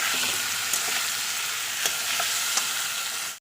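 Spices and vegetables sizzle steadily in a hot pan while a spoon stirs them, with a few soft scraping clicks over the continuous frying hiss.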